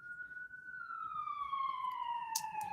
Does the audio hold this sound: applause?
no